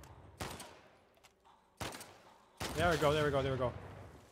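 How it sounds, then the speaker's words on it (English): Explosions in the video game The Last of Us Part II, two sharp blasts a second or so apart followed by a heavier rumbling burst, with someone speaking briefly over the noise. "Now they're gonna hear all these explosions"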